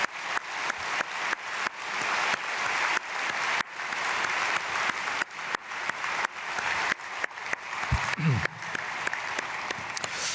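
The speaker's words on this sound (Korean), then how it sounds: "우리 박수로 축복하겠습니다" A church congregation at an early-morning prayer service claps in blessing for three visiting elders, a steady hall-filling applause with a brief voice near the end.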